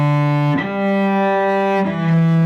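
A cello plays two bars of a Grade 1 Trinity study as sustained bowed notes changing pitch twice, close, steady and full, with no voice over it.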